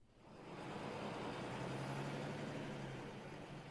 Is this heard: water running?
no